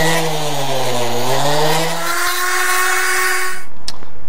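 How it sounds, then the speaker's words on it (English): A power sander grinds the edges of a front license plate, a loud whining tool that winds down in pitch over a couple of seconds, followed by brief sharp scraping contacts. "I've kind of sanded off the edges here"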